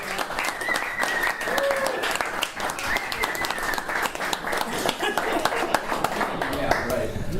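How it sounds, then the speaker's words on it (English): A crowd at a high school honoring its 1974 football team applauds steadily and fairly close, with voices talking and a little laughter mixed in throughout. "a round of applause for this guy"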